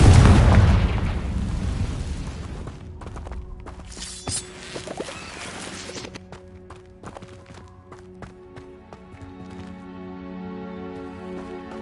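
Spell blasts from a Confringo fire curse in Hogwarts Legacy: a loud burst and rumble up front, then fading crackles and scattered pops over a low sustained game hum, with no talk.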